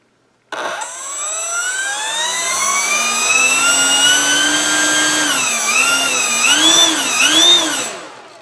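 An electric motor on an H-King P-51D Moonbeam RC model airplane, held in place by hand, spools up to a loud, rising whine that holds steady for several seconds, then wavers up and down before cutting off.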